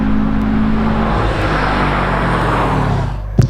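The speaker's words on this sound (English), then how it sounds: "We've got Ivan here in the WRX wagon, keeping it nice and neat through there." A Subaru WRX wagon runs a lakeside hillclimb course, its engine note loud and steady throughout with continuous drive and road roar, then a brief sharp bump near the end as it passes close.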